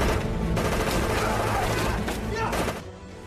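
Rapid gunfire in a World War II battle scene from the film Defiance, with Jewish partisans fighting German soldiers with makeshift weapons: loud, dense bursts of shots and thuds, with a narrator's voice over them before fading.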